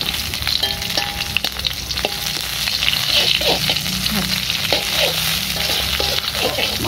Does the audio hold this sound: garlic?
yes